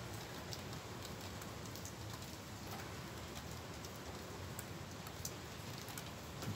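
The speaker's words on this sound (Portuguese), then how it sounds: "E a chuva aqui aumentando um pouco." Steady heavy rain falls in Porto Alegre after a thunderstorm, a constant soft wash of drops with occasional louder patters, fairly quiet and continuous throughout, no voices.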